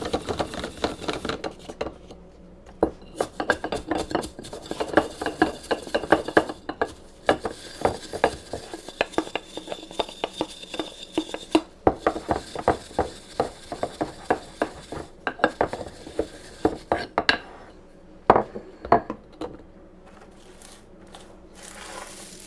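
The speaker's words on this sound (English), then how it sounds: "And stir." Dried oregano and other herbs being stirred in a container give close, dry scraping and rustling with irregular clinks and taps, continuing for a long stretch with a faint voice now and then.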